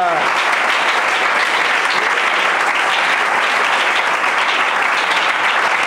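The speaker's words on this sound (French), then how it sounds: "On l'acclame." A church congregation bursts into loud, sustained applause and cheering that fills the room evenly from start to finish with no pauses.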